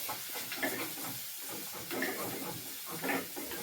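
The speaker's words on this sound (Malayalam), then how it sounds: "കറിവേപ്പില ഇടുകയാണ്" Curry leaves hit a hot pan with green chillies and onion, giving a soft, steady sizzle punctuated by a few rhythmic stirring scrapes close by.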